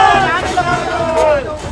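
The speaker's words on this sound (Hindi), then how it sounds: "तो कहीं मोदी मोदी के नारे लगे।" A crowd in Varanasi chants slogans for PM Modi as his convoy passes, a brief loud burst of massed voices with rising and falling tones over background hubbub.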